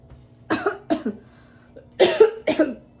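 Several harsh coughs come in two bursts, a pair early on and a closer cluster after a short pause, with a low hum underneath.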